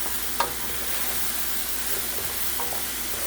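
Brussels sprouts and mushrooms seasoned with salt, pepper, garlic powder and onion powder cook in a pan, an even close sizzle with a single light utensil tap, steady and unaccompanied by speech.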